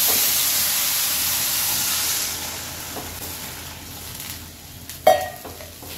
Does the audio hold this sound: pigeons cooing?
no